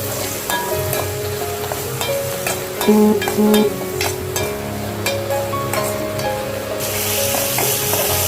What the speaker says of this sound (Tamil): வானலில் எண்ணெய் விட்டு நறுக்கி வச்ச பீட்ரூட்டை போட்டு வதக்கிக்கோங்க